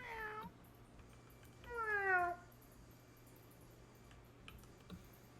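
A fire kitty meows twice in the game Wizard101, a short call then a longer drawn-out one, over quiet background with faint clicking.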